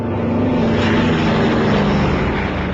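Enola Gay B-29 bomber banking sharply away after dropping the atomic bomb on Hiroshima, a loud steady propeller-engine roar with a constant low drone, close and unbroken.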